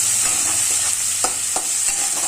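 Chopped onion frying in oil with spices, a steady loud hiss with scattered sharp crackles and stirring scrapes throughout.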